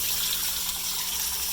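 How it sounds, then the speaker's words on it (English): Water drains steadily from the pump hose of a Roper washing machine, a continuous close gushing flow with no pauses. "Water's coming out nice and clear."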